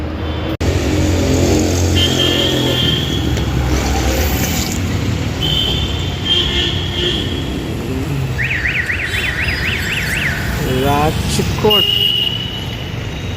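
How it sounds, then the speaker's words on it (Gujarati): Morning road traffic at Rajkot bus stand, with GSRTC buses revving and moving past nearby, a loud, continuous engine rumble under people talking and occasional horn-like tones. "સારો એવો ટ્રાફિક છે કેશોદ અમદાવાદ માટે"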